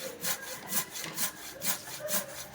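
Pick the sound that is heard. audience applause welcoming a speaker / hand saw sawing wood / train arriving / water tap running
hand saw sawing wood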